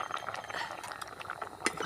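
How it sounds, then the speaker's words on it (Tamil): Tamarind water is poured into a pot of sambar, a brief, steady splashing and gurgling of liquid heard up close and lasting under two seconds, with no voices. "ஊற்றுறோம் அதில் ஊற்றி முதல்ல கிண்டி விட்டுறோம்"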